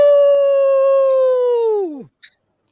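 A man imitates a dog with a long sustained howl that holds steady, then slides downward and cuts off, loud and close, followed by a couple of faint clicks.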